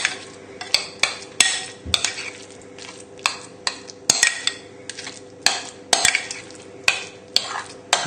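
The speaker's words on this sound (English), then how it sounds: "just using a spoon, we just need to mix it together now" A spoon stirring mushroom Wellington filling in a bowl, with regular clinks and scrapes against the side repeating at a steady rhythm, close and clear with no talk.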